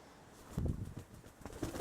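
Soft, low pigeon cooing nearby, a few throaty murmurs over a faint background hiss.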